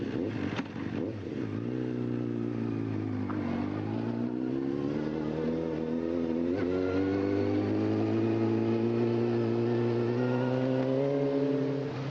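A new motorcycle races up narrow hill roads, its engine droning loud and steady for a long stretch and climbing in pitch as it speeds up, recorded from the bike itself with wind noise and no talk.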